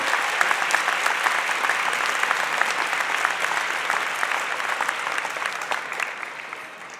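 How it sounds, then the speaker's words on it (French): Audience applause for graduates at a university fall convocation ceremony, a broad, even roar of many hands clapping that continues steadily and tapers slightly toward the end, with no speech over it. "Let's give them a round of applause."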